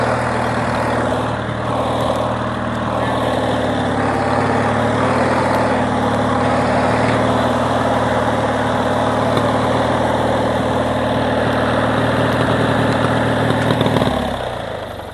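A homemade lawn mower engine runs on kerosene, a steady loud idle with a deep low rumble and mechanical rattle that holds continuously before cutting off abruptly near the end.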